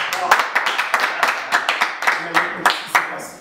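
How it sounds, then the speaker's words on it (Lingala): A small audience at a Congolese theatre performance applauds in a short, rhythmic run of claps, heard close and fairly loud, with voices talking in the background. "Est-ce qu'on peut applaudir pour Jean?"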